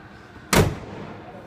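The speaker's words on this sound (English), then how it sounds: "That was a big, loud shot." One sharp, loud gunshot cracks out against quiet background noise, with a brief echoing tail fading afterward.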